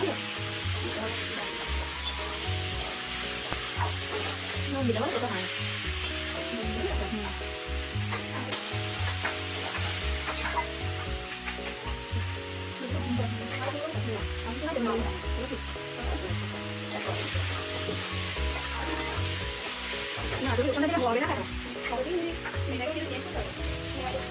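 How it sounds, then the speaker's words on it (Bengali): Turmeric, chili powder, salt and ginger paste sizzle and fry in a pan while being stirred for a shrimp and ash gourd curry, a steady close crackle under continuous background music. "দিয়ে সব মশলাগুলো একসাথে কষিয়ে নিচ্ছি ভালো করে।"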